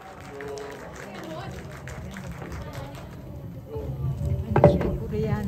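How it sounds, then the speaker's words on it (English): Audience at a Start-Up PH cast event gives a round of applause, a steady mass of clapping that swells louder toward the end, with crowd noise mixed in. "May we have a round of applause for Miss Jackie Lou Blanco as Sandra."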